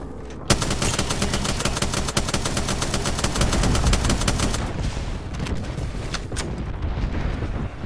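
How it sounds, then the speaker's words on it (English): A video game airstrike roars as a long, dense barrage of rapid blasts that holds loud for several seconds, then trails off into scattered, fading explosions. "Signaling an airstrike"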